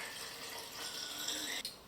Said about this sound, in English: pour in our stabilizer